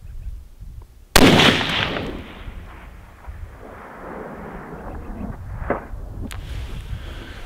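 A long-range rifle, aimed with a Barrett optical ranging system at a big rock 1,060 yards away, fires one loud, sharp crack that rolls off in a long echo, followed seconds later by a fainter distant report.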